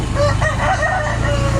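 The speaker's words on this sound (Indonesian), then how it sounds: "ayam juga, ayam aduk kayaknya" A rooster, likely a fighting cock, crows over a steady low rumble of background noise at Situ Gede lake in Tasikmalaya, its call loud and drawn out across the moment.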